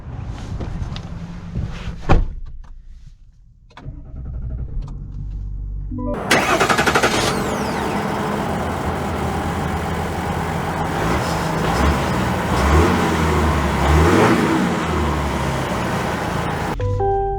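A 2023 Chevy Silverado 1500 RST Duramax diesel pickup cranks and catches, then settles into a loud, rough idle and rumbles steadily as the truck pulls away, heard up close.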